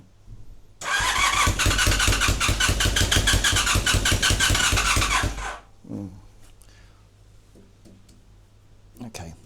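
Small engine, being worked on while it misfires on one side, cranks and catches into a loud, rapid, rough-firing run for about five seconds, then cuts out, leaving a quiet hum with brief speech afterward.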